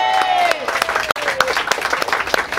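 An audience claps and cheers at a touring music concert, a dense burst of applause with a brief dip midway, mixed with crowd voices and a high whistle or call.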